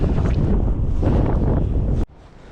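Strong wind buffets the microphone outdoors during wet-track training before a race, a loud, roaring low rumble with gusty swells that cuts off abruptly near the end, no voices heard.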